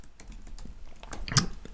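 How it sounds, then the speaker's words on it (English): Keys tapped on a computer keyboard in short irregular bursts, close and moderately loud, with one sharper cluster of clicks near the end and no voices. "typing some text in here"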